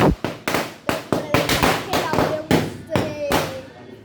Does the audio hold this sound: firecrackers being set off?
yes